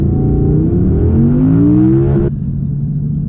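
Audi R8 Green Hell Edition with a 5.2-litre 620 hp V10, engine revving loud and close inside the car, pitch climbing steadily before the revs drop away abruptly to a low idle rumble.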